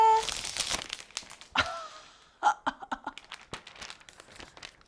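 Protective plastic film crinkles and tears as it is peeled off a new iPad Pro 12.9-inch, a series of close, sharp crackles and rustles.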